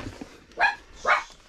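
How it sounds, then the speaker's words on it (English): A dog gives two sharp, loud barks close by, indoors, with a short pause between them. "you hush it up, dog, I'm filming."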